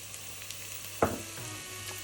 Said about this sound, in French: Et je fais maintenant rôtir mes épices.